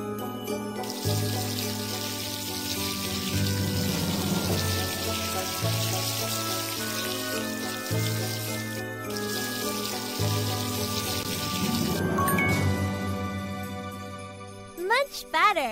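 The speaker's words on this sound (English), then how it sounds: "Rinse it." Water from a tap runs in steady bursts for rinsing a face in a princess salon video game, with tinkling game chimes and cartoonish effects layered over the flow.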